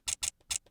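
Sampled clicks, filtered with EQ, sound as three sharp, bright clicks in quick succession, with fainter softer ticks between them, close and dry with no voices.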